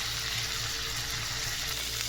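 Tomato and ground spices with salt fry in a pan after ginger-garlic paste while making ghugni (peas chaat), giving a steady, loud, continuous sizzle with faint stirring scrapes and no voices.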